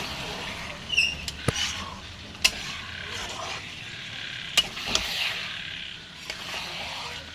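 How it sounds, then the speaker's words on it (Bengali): Marinated meat with spices stirred in a pan for biryani: quiet sizzling under scraping utensil strokes, with a few sharp clacks of a spoon against the pan. "এই যে আমি এখানে ভালো করে এটা নাড়িয়ে চাড়িয়ে নিচ্ছি মশলার সাথে"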